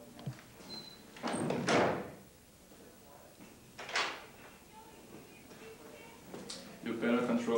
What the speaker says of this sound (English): Shut that door, man.